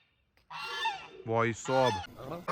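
A duck honks repeatedly at a dog, several loud nasal calls in quick succession, close by and clear.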